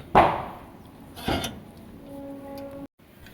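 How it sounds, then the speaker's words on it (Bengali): Metal clanks and knocks from two people swapping a car wheel for the spare by a riverbank, two sharp hits followed by a faint steady hum, fairly close. "দুজন মিলে এখন আমরা চাকা চেঞ্জ করছি"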